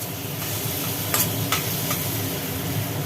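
Fried potatoes stirred through sizzling masala in a pan, a continuous close sizzle with a few short scraping strokes of the spatula.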